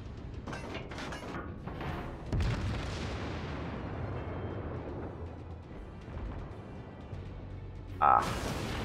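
Main guns of the Kongo battleship firing in World of Warships, a heavy boom followed by a long rumbling decay over steady engine and sea noise, with a sharp burst near the end.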